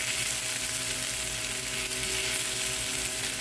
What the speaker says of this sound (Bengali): এখন ওই ফ্রাই প্যানে এখন আমি আবার পেঁয়াজটা ভেজে নিব